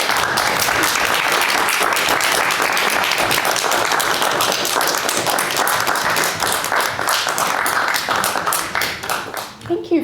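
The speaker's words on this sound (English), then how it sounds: "Another round of applause, please." Sustained audience applause following talks at a waterfront lockout AGM, a dense, loud wash of many hands clapping that holds steady for about ten seconds before thinning near the end.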